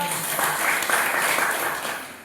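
An audience applauding at a free eye camp at a rural primary health centre, a sustained wash of many hands clapping that swells and then slowly fades.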